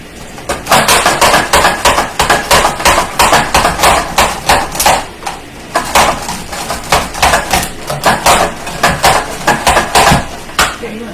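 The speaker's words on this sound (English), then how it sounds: "So I pull out my handy dandy grinder." A handheld kitchen grinder, used while making slow cooker pulled pork, gives a steady run of sharp, repetitive cracking strokes for about ten seconds. It is close and loud, with faint talk beneath it.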